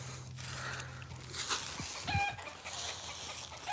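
Backyard chickens cluck softly in the background, a few short calls amid low outdoor ambience, fairly faint and distant.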